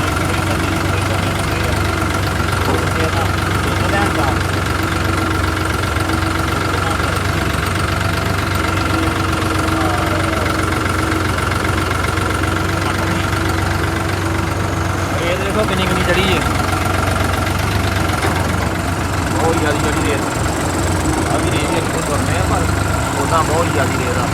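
A steady engine idles throughout with a constant low rumble and knocking, loud and continuous, with some faint background voices.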